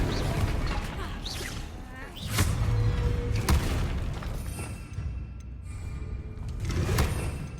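Confringo fire spell explosions in Hogwarts Legacy, several booming bursts with crackling tails spaced a few seconds apart, loud and close, with some game voices between.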